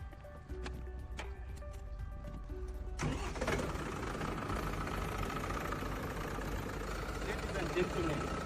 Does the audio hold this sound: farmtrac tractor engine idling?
yes